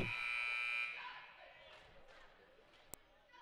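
A loud, sustained electronic game buzzer blares for under a second and then fades out, leaving quieter ambience in a gym during a girls' basketball tournament, with a brief sharp knock near the end.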